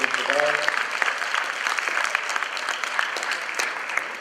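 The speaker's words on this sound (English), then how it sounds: "So I want to give a big applause to Ms. Lori" Audience applause at a school music event, steady dense clapping throughout with some crowd voices and a brief tonal sound near the start.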